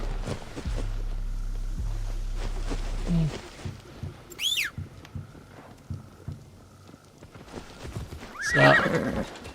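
Horse in a video game neighing loudly with a bright whinny, accompanied by clip-clop hooves on the ground and a second whinny near the end, with no speech.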